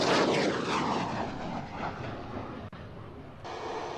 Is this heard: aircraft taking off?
yes